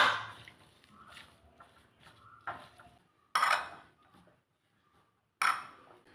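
Kanthari chili, lemon juice and salt being mixed by hand for a raw turmeric pickle, heard as a few short clinking and scraping bursts of a utensil against a bowl with quiet gaps between them.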